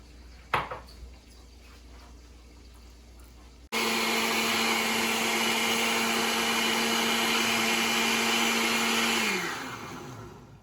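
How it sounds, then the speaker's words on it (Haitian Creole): A kitchen blender whirs steadily as it blends coconut with water, starting abruptly after a few faint clicks and running loud and continuous for several seconds before winding down, with no talking. "kounya moi pral vider cocoyer dans de l'eau pour me capable blender"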